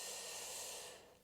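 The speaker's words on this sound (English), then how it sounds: "take a deep breath in. Exhale." A long, deep exhale during yoga breathing practice, a soft airy hiss that holds steady and then fades out, close and quiet with no talking.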